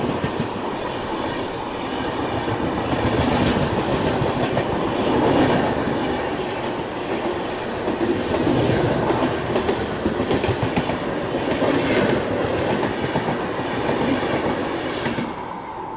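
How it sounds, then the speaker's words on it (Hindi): The Vaishali Superfast Express runs along the rails between Uttar Pradesh and Bihar, a continuous loud rumble with rhythmic clickety-clack of wheels over joints and faint squeals, heard close by and without talk. "वैशाली सुपरफास्ट एक्सप्रेस, ये वैशाली सुपरफास्ट एक्सप्रेस।"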